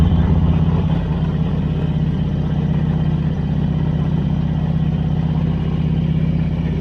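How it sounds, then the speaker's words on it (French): A motorcycle riding over cobblestones, its steady mid-pitched engine drone running continuously and close throughout, with a faint rough shaking texture beneath it. "On entend la moto qui se secoue"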